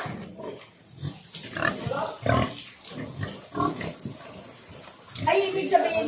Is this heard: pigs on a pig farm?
yes